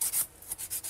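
A hand file rasping over builder gel nails in quick strokes, several short scratchy passes with brief pauses between them, close and fairly loud.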